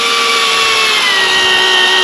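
A handheld power drill whines loudly and steadily while drilling holes for screws, its pitch dipping slightly partway through as the bit bites, close up and alone.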